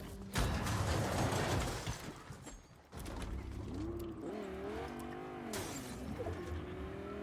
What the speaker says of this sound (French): Prends la voiture. Ouais, je vais conduire, attends.